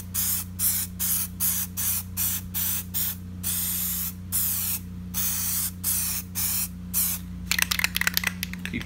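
Plasti Dip aerosol spraying onto the emblems of an S550 5.0 Mustang, a series of close hissing bursts in short regular pulses over a steady low hum, followed by quick rattling at the end.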